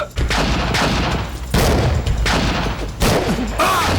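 Gunfire in a Turkish TV series scene: several loud, close bursts of shots in quick succession, each followed by a booming tail.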